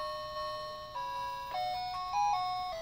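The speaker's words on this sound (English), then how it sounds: "Beethoven's Ode to Joy." Beethoven's Ode to Joy plinks out from a red toy musical bear phone, bright electronic tones stepping through the melody up close, with no talking over it.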